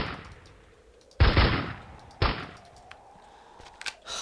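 Gunfire at a dragon in the block-building game CastleMiner Z, two sharp loud shots about a second apart, each trailing off in a short rumble, with faint clicks between.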